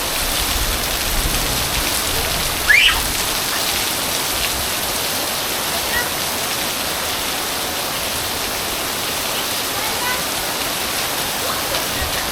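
Heavy rain falls steadily in Roxas City, a dense, loud, unbroken hiss of drops pouring down, with a brief faint chirp partway through.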